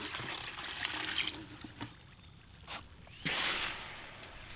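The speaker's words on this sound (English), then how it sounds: "So we're going to mix in our 2 quarts of water" Water from a container pours and trickles into dry concrete mix in a wheelbarrow, a soft splashing stream that swells and fades in uneven bursts, fairly quiet and close.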